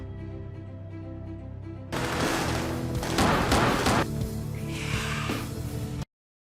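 Gunfire in a film action scene as a power-cut building is stormed, a burst of loud shots and thuds over a tense music score, then abrupt silence.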